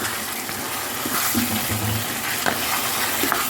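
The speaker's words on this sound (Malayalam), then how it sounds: "ഉപ്പിട്ടതിന് ശേഷം ഇതേപോലെ നന്നായി ഇളക്കി" Salted Kashmiri chicken curry is stirred in a pan. A steady, close sizzle of frying runs underneath, and a few soft scrapes and stirs come through without any talk.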